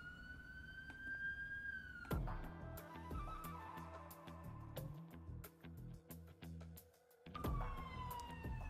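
An ambulance siren wails in the background, rising and falling with some tonal shifts and sharp clicks mixed in, moderately loud and without speech.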